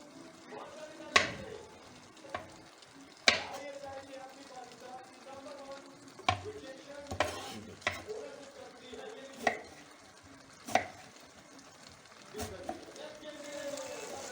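A kitchen knife chops eggplant into small pieces for noratan sabzi, giving about a dozen sharp, irregularly spaced thuds against a board over a quiet background.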